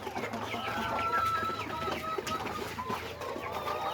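Sonali chickens on a poultry farm cluck steadily and overlapping, a dense flock chorus with an occasional rooster note, fairly close and continuous throughout.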